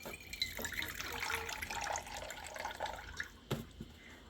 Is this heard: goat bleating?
no